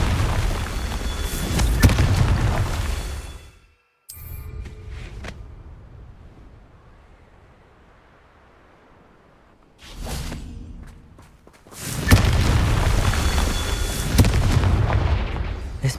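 Fiery Confringo spell blasts in the Hogwarts Legacy video game: loud booming explosions with whooshes open the clip, a quieter rumble lingers through the middle, and heavy blasts return near the end.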